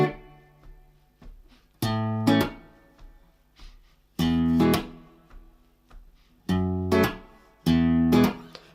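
An acoustic guitar plays the repeating verse of a song as strummed chords in short bursts separated by brief gaps, clear and close with no talking.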